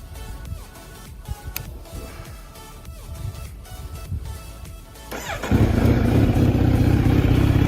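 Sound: Kawasaki Z900 motorcycle engine running

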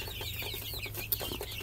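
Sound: chickens clucking

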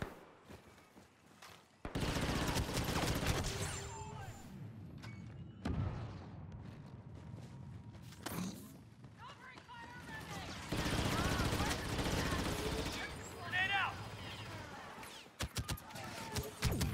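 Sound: gunfire from Star Wars Battlefront 2 video game, enemy shooting

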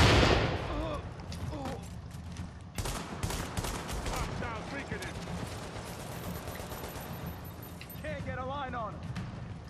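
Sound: frag grenade explosions and gunfire in video game The Division

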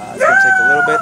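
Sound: dog howling

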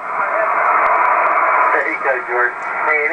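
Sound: amateur radio reception on 40 meters via Comet antenna

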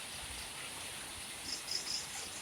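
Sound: rain falling

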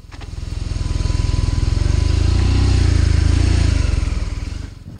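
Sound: BMW R nineT Scrambler motorcycle engine

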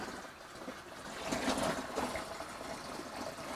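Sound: pouring cold water for home brewing wine

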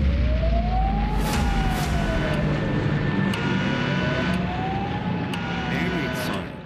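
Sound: air-raid sirens sounding in Singapore, commemorating World War II conquest

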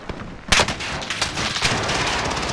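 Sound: gunfire, sniper shots from video game Call of Duty Modern Warfare

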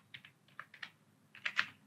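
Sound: typing on a computer keyboard

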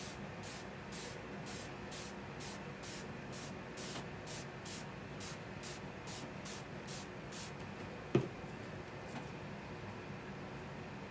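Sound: spraying water from spray bottle

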